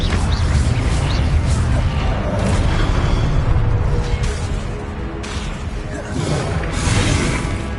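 An Expelliarmus spell cast during combat in the game Hogwarts Legacy: a loud, dense blast of magical booms, crashes and whooshes that keeps up throughout, with a voice under the din.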